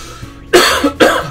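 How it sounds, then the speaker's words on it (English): Two harsh coughs in quick succession, close and loud, after a brief quiet stretch with faint background noise. "Cough, cough."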